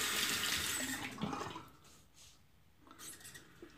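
Water trickling and splashing briefly as a little more is added during work, fairly quiet and close, swelling then easing off before a short second splash.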